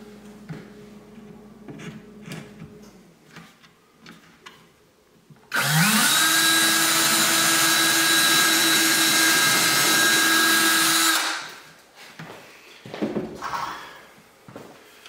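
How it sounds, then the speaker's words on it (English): A power drill whines loudly for about six seconds, drilling into a wooden kitchen cabinet, ramping up then cutting off, with quieter handling clatter before and after. "Now I'm going to take a smaller bit and then we're going to drill into the cabinet."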